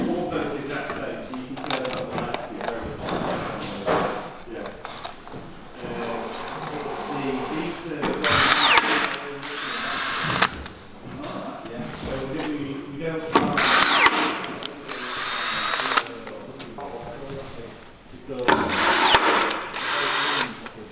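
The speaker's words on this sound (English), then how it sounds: "And then Mark attaches the pop studs, making sure that the covers are tight." A power tool fits pop studs onto a new electric narrowboat's cover in repeated short, loud whirring bursts with pauses between them. People can be heard talking throughout, under and between the tool sounds.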